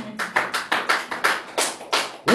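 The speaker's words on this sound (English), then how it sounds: "Clap for me." Church congregation clapping along during an energetic sermon, about ten sharp, evenly spaced handclaps in a steady rhythm, close and fairly loud with no voices over them.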